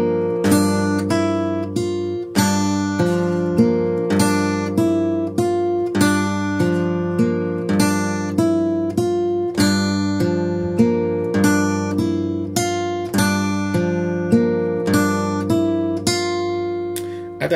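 Fingerpicked acoustic guitar playing a bar from a song, rising treble notes over a steady low E bass, in a repeating rhythmic pattern of clear plucked attacks, close and solo without talk.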